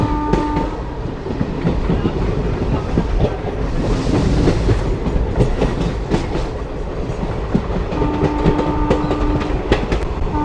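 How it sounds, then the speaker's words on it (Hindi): The Sutlej Express runs at speed, with loud, continuous rumbling and rapid rhythmic clatter of wheels over rail joints, and a sustained horn-like tone sounding near the start and again toward the end. "अच्छी रफ्तार के साथ आगे बढ़ती हुई हमारी सतलुज एक्सप्रेस"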